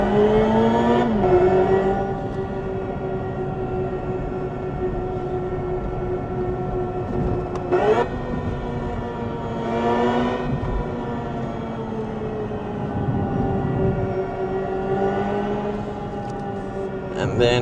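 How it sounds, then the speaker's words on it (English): Hyundai IONIQ 5 N electric car playing its synthetic ignition and evolution engine sounds, a dense layered drone with rising and falling tonal sweeps and brief surges, steady and moderately loud inside the cabin. "And so this is ignition sound. This is evolution sound."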